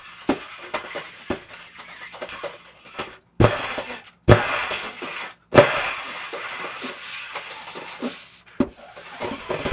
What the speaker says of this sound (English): Does smashing the reed on a table help it play better?